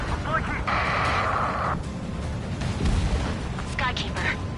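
A missile explodes during a flight combat video game dogfight against an SU-30, with booming, rumbling blasts and continuous engine noise running under tense radio-style voices.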